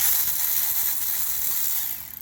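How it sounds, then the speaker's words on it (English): A power tool spins to loosen a bolt on the thermostat housing of a 2000-2006 Nissan Sentra, giving a steady close-up whirring ratchet buzz that runs unbroken for about two seconds before tapering off. "and then I follow with a power tool to make it quicker"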